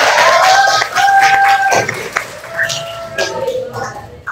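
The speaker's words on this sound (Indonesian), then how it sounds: "Tepuk tangan dulu lah untuk kelas ini." Students in a school classroom clap together, a burst of scattered applause and cheering that fades within a few seconds, with voices calling out and talking over it.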